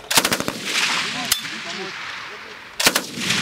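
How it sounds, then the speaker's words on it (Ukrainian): Soldiers fire machine guns at a military training range in rapid close bursts at the start and again near the end, separated by a single shot and a quieter stretch of ambient noise. "Ще одна група бійців опановує навички ефективного ведення вогню з кулеметів"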